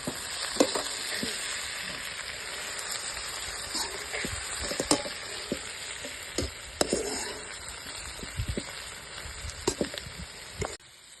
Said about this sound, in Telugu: మొత్తం ఒకసారి కలుపుకుందాం.